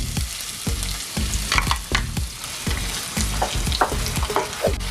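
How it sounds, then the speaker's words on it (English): Onions sautéing in extra virgin olive oil in a pan, a loud continuous close sizzle with repeated clattering stirs and scrapes throughout, no talking. "add your extra virgin olive oil to your pan. Alright, family, add your onions."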